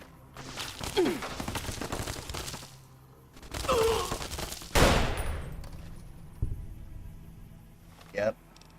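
Gunfire in a video game from a shotgun, several sharp blasts scattered across the stretch with bursts of rattling shots between them, and a voice talking intermittently.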